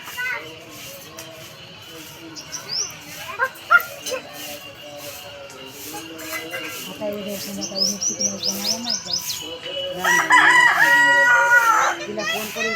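A rooster crows loudly nearby, its calls strongest toward the end, with a dog barking and people talking around it in a rural yard.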